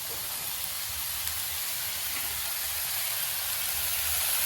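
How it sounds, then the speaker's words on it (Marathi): Leafy wild monsoon greens from the Konkan, pevga, hiss and sizzle steadily after being tipped into a hot pan, a broad, even frying noise that holds without a break and slowly swells louder. "मी आता याच्यात ही भाजी टाकून घेतो"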